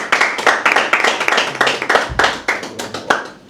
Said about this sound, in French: on peut applaudir pour Monsieur Jafé.